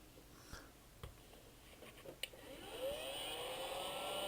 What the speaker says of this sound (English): Now I'm using a heat gun here.